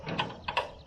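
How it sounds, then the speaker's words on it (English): The gear lever on a 1951 John Deere A tractor clunks into fifth gear, giving a few quick, close metallic clicks and ratcheting knocks within a moment, quiet and isolated. "We're gonna go to fifth gear."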